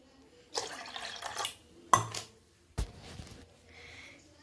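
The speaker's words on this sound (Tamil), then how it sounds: "இதில் நல்லா தண்ணியை ஊற்றி காய்ச்சி வச்சுக்கிடுவேன்" Water pouring into a pot of milk in a few short splashy bursts, close and moderately loud, with brief pauses between pours.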